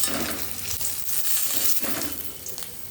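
Pointed gourd (potol) pieces frying in oil in a pan, with a steady close sizzle, soft stirring scrapes and a few faint knocks throughout.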